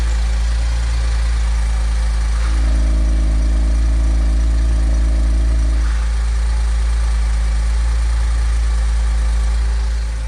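Porsche 987 Boxster S engine running steadily with a low, even hum, close and continuous, with a brief change in tone midway and no talking.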